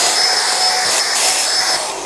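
A POKK 1000W HVLP electric paint sprayer runs steadily with a loud, continuous airy hiss and motor whine, alone and close up for its full length.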